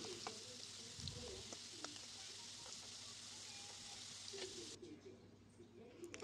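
Potatoes deep-frying in oil for dum aloo, a faint, even bubbling hiss with small pops and clinks scattered throughout, quiet and distant-sounding, ending in a short drop-off.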